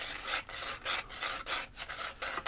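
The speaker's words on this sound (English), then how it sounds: "A little piece of sandpaper here to clean up where that little burr was on the corner" Sandpaper rubs back and forth over the corner of a Strat copy guitar body, smoothing off a small burr: about eight quick, close, even strokes of rasping friction, with no talk.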